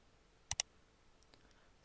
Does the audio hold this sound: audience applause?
no